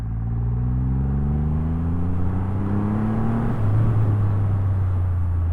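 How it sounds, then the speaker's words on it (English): A 2023 Triumph Rocket 3R motorcycle pulls away in second gear, its engine drone climbing steadily in pitch over a deep continuous rumble, then easing briefly before carrying on, loud and close throughout with no talk. "Just a second gear pull away there, off the throttle, straight up to 60."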